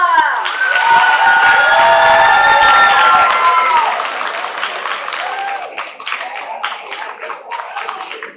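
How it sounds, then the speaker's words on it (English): A poetry slam crowd claps and cheers in a loud burst that thins into scattered claps, with a voice speaking over the start. "let's keep that applause going for our next team piece,"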